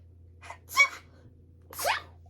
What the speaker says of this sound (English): I had to sneeze, hold on